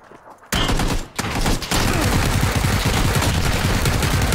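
Rapid bursts of gunfire from a PUBG match, loud and continuous after a brief quiet start, with a short gap and then sustained automatic shooting.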